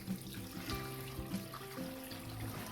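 Ten cups of water pour into a pot holding turkey drippings for broth, a continuous splashing, gurgling stream running close and steady throughout.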